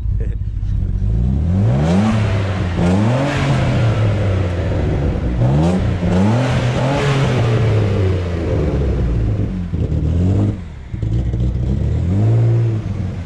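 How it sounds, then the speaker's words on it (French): A BMW E36 328i fitted with twin turbos revs up in repeated rising bursts, the engine note climbing and falling several times close by, not yet fully warmed and running a little rich, with people talking over it. "Là elle est un peu grasse encore quand je l'accélère"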